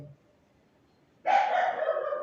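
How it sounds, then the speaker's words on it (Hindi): Dogs bark outdoors at night, a sustained burst of barking breaking out after a quiet stretch and continuing steadily, moderately loud but somewhat distant. "इन कुत्ते बीच बीच में भौंक रहे हैं"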